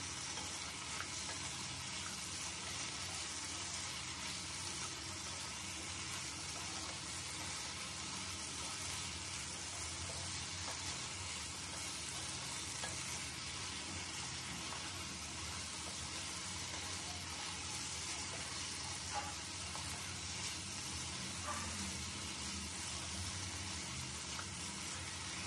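Spice masala frying in a pan after being covered for a while, giving a steady, even sizzle throughout at low volume with no talk.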